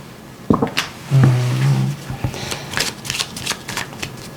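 Tarot cards being shuffled close by, a sharp riffle then a rapid run of papery flicks and taps, with no talking.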